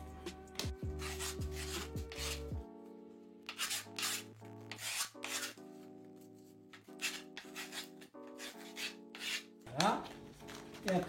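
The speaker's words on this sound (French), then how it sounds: "vous prenez votre tournevis métallique ou autre pièce et vous allez écraser tout le bord" Metal screwdriver pressed hard and rubbed along the edge of skateboard grip tape in repeated short scraping strokes, rasping like sanding, with pauses between passes and no talk.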